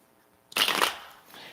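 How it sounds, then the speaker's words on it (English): A deck of worn tarot cards gets one quick riffle shuffle, a short burst of crisp fluttering card edges followed by a softer settling rustle, up close in a quiet room. "One more shuffle, and that should suffice."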